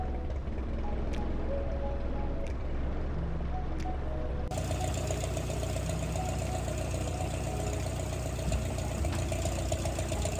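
A freshly overhauled airplane engine running, a steady loud mechanical drone with a knocking pulse that steps up abruptly midway into a fuller, brighter roar and holds there, no talk.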